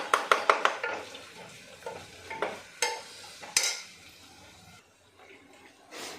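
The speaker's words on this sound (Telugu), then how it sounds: "అల్లం వెల్లుల్లి పేస్ట్ కూడా వేసుకోవాలి. అవి కూడా నూనెలో ఫ్రై చేసుకోవాలి." Ginger garlic paste being stirred in hot oil in a pan for a bitter gourd curry: a quick burst of rapid utensil taps, then irregular scraping stirs over a soft sizzle, close up and moderately loud.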